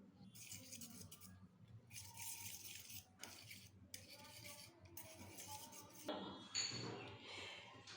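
Eggs seasoned with salt and pepper being beaten with a fork for bread egg toast: quick, steady metallic clinks and scraping against a bowl, nearby and moderately soft, continuing through with no talking.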